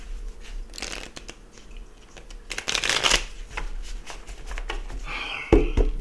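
Playing cards are shuffled in several brisk riffling bursts, close and crisp, with soft handling noises between them.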